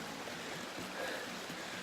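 A small mountain stream in the foothills gives a soft, steady babble and trickle of water, faint and unbroken throughout.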